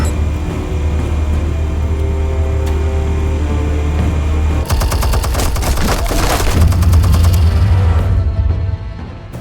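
Rapid gunfire erupts in the Batman Telltale video game right after explosives are armed, a dense loud burst of shots and booms cutting in over a steady low drone and continuing for several seconds alone.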